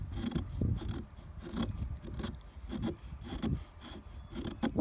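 Knife carving fine curls off a piece of wood, a steady series of close, rasping scrapes in short strokes, loud and alone.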